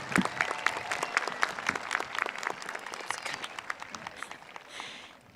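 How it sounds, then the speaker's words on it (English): An outdoor crowd at a 2021 ThunderRidge High School graduation applauds a diploma group, a burst of clapping that is dense at first and then thins and fades over a few seconds. "Round of applause."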